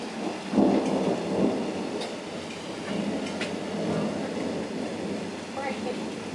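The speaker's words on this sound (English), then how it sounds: "it's gonna start raining on the camera now" Thunder rumbles in low rolling bursts from a supercell thunderstorm, with steady rain hissing throughout at moderate distance and faint voices in the background.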